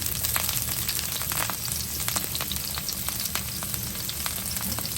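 Onions frying in hot oil for a shrimp and broccoli curry, giving a steady, dense sizzle with scattered pops and crackles throughout, close and fairly loud with no voices.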